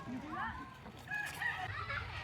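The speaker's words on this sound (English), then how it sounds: "Oh my gosh, look at that goose." A goose at a city farm calling, with a few honking cries rising and falling over outdoor background noise, moderately close.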